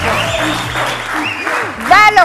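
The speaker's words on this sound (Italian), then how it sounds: "Voglio sentire più applausi." A studio audience at an Italian football talk show claps loudly and steadily, with a host's voice talking over the applause.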